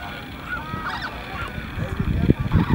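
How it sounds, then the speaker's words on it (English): A flock of flamingos calls over Caroni Swamp in Trinidad, honking goose-like cries rising amid outdoor ambience, growing louder and closer toward the end as the birds approach. "we're gonna listen to the sounds of those flamingos"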